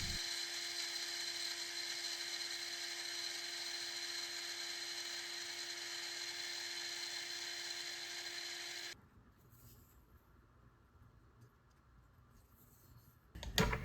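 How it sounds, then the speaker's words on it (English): A hobby milling machine squares the edges of a cut piece of rough bar stock, giving a steady high-pitched cutting whine for several seconds before it drops to a quieter, rougher rumble, ending in a short louder burst. "After cutting a piece off the rough bar stock, I'm spending some time machining all the edges to ensure they're square."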